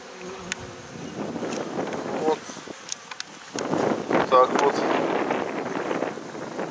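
Honeybees buzz in a steady, dense drone as a caged young queen, marked with blue, is introduced to a queenless colony, with wind noise and a voice talking over the hum throughout.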